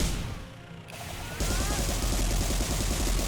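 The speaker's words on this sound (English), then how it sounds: "That is my phone vibrating." A mobile phone vibrates in a buzzing, rattling burst that kicks in about midway and continues steadily, close and fairly loud over a background of video game sound.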